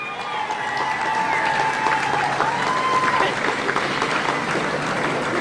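An audience gives a big round of applause and cheers for returning Olympians at a civic welcome event, a loud, dense, sustained clapping across the whole stretch with crowd voices mixed in.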